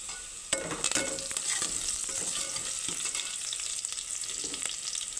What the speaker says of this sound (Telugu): ఇప్పుడు కొంచెం కరివేపాకు వేద్దాం